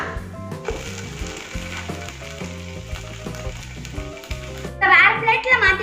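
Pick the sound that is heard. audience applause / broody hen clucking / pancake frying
pancake frying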